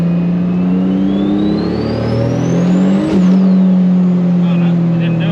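A Toyota Supra with Bosch Motorsport 2000cc injectors revs at full throttle in second gear, a loud, droning engine note that climbs steadily in pitch before cutting off sharply, with a whine rising over it.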